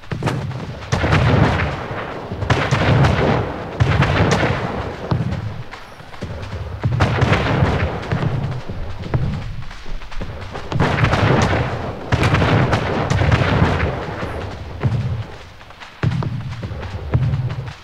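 Heavy naval cannon fire from warships in a battle in the Anno 1800 video game: repeated booming volleys in bursts of roughly one to two seconds, loud and close, with brief lulls between salvos.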